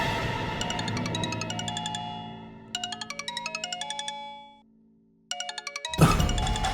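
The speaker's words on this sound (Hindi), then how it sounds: "सौम्या कॉल कर रही है, अब मैं उसे क्या जवाब दूं?" A melodic electronic phone ringtone plays in repeated bursts of chiming notes with short pauses, fairly clear, then a brief thump cuts in at the end.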